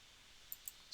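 Soft mouse clicks at the desk, two quick faint clicks followed by a third at the end, isolated over a quiet background.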